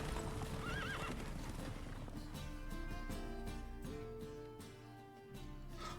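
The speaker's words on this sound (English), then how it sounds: "Look at that brown horse." Rhythmic hoofbeats clip-clop steadily while a brown horse whinnies in the video game The Witcher 3: Wild Hunt, set against a continuous musical backdrop.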